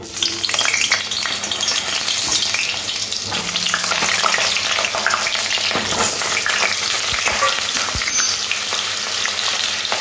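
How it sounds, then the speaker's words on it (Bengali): Potato pieces fry in hot oil in a wok with a little turmeric for a chicken curry, a loud continuous sizzle with stirring scrapes running throughout, close up. "দিয়ে আলুগুলো লাল লাল করে ভেজে নেব"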